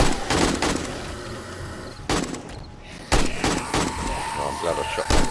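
Gunshots in the video game 7 Days to Die ring out as sharp repeated bangs in short bursts, close and loud, with game noise in the background.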